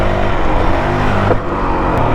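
A 2023 Honda CRF450X dirt bike fitted with a Vortex ECU, its engine held at a loud, steady, close-up drone during a wheelie with a slight dip midway.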